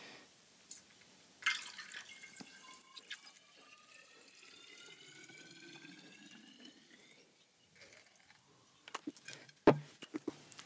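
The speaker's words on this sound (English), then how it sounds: "That is how you decant a bottle of wine." Young red wine is poured through a funnel into a glass decanter, giving a quiet, close trickle and gurgle with rising pitch as it fills, then a few faint drips and clinks.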